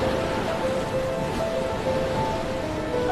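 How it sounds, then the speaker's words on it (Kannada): Sea waves washing onto a shore, a steady, dense hiss of surf with soft tonal notes running through it. "ಅಲೆಗಳ ಸದ್ದು"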